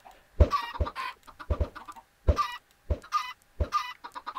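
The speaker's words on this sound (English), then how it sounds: "These are the ones that are going to be making the chickens." Chickens in the video game Minecraft cluck in short, clipped bursts, several separate calls spaced irregularly at close range, clear and alone with silence between.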